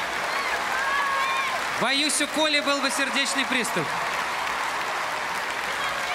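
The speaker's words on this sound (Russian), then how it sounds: "аплодисменты!" Brief burst of audience applause lasting about two seconds for Dimash Qudaibergen at New Wave Sochi 2018, preceded and followed by someone speaking in a hall.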